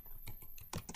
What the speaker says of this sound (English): And then I'm going to type in a new command.